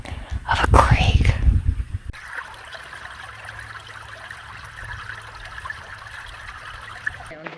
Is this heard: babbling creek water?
yes